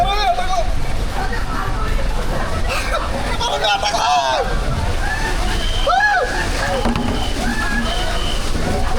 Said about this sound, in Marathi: बकेटचा फोर्सफुल येणारा शॉवर एन्जॉय करून